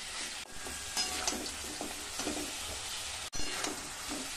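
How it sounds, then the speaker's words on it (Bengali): Chicken pieces fry in a pan until browned red, giving a steady, close sizzle with soft stirring scrapes and a brief dip when the pan is moved, and no voices. "দেখুন মাংসটা কিন্তু আমি লাল লাল করে ভেজে নিয়েছি।"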